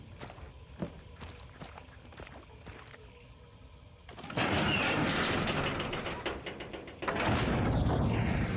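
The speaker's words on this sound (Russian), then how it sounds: "слышал выстрел, чел, значит, туда бежит" In the video game Hunt: Showdown, footsteps patter quietly before a loud gunshot bursts out with a long rolling tail, followed by a second heavy blast near the end.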